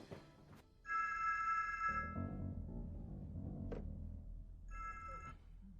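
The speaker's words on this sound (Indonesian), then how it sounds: "Untuk lebih jelas gue telepon Egan aja" A telephone rings on an outgoing call, two bursts of a bright electronic ringback tone separated by a low murmur of background sound, clear and moderately loud.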